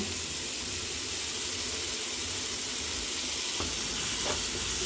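Tomato and ground masala sauté in a pan for a Karnataka-style egg roast, giving a dense, even hiss of frying that runs steadily throughout, with a couple of faint spoon touches near the end.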